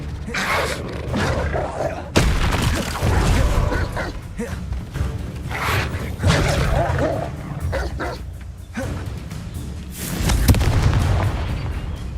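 Confringo blasting spell in the Hogwarts Legacy video game goes off in repeated booming explosions amid busy combat noise, with a sharp loud burst partway through and another near the end, while a voice talks over the fight.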